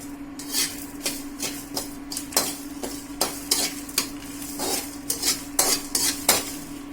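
Chillies, fenugreek and cumin are dry-roasted in a pan and stirred, giving repeated scraping and clinking strokes in an irregular rhythm over a steady low hum, close and fairly clear with no talk.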